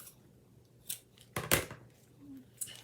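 Scissors snipping ribbon while tying a bow for a tri-fold card, a few quiet close crisp snips, the loudest near the middle, in a quiet room.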